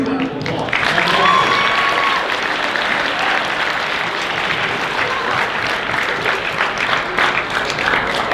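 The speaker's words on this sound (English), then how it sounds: "Another huge round of applause." A high school student recognition assembly audience claps in a sustained, dense round of applause, loud and steady for several seconds, with faint voices and cheers mixed in.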